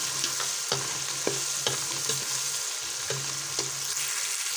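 Tomatoes and masala fry for biryani with tamarind and curry leaves, giving a constant crackling sizzle close up, while a spoon scrapes and taps the pot roughly every half second and no one speaks.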